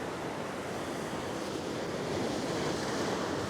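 Ocean waves crashing against coastal rocks, a steady broad roar of surf with wind noise, rising slightly toward the end and continuing without any voices.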